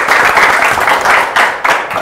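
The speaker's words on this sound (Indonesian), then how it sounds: "Tepukan dulu." Audience applause in a classroom setting, a steady broadband clapping burst with a few louder swells, sustained for the full two seconds with no talk.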